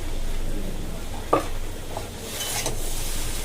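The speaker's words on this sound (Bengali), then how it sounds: "আর জিরের গুঁড়ো কষিয়ে নিই ভেজে রাখা সয়াবিনগুলোও দিয়ে দিলাম" Cumin powder and soy chunks fry in a pan with chili powder, giving a steady close sizzle with a brief sharp knock of the spoon partway through.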